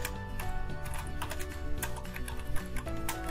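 Computer keyboard typing notes, a rapid close stream of key clicks with no talking.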